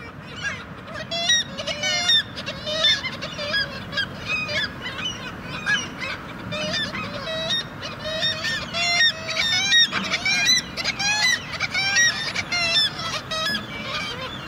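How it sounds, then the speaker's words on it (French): Dense chorus of black-legged kittiwakes and common gulls calling at night in early May, loud overlapping cries and honking squawks from many birds, continuous and near, with no speech. "les mouettes tridactyles et les goélands cendrés ne dorment toujours pas"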